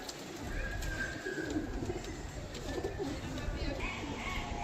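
Pigeons coo softly around a loft during a pigeon sale, low murmuring calls spread under a steady background hum, with faint higher chirps now and then.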